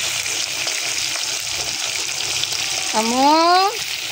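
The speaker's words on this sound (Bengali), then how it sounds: "হচ্ছে মাছটা ভাজি" Pomfret fish frying in a pan on a gas stove gives a steady, broadband hiss that runs throughout, with a brief whistling or squeaking tone rising near the end.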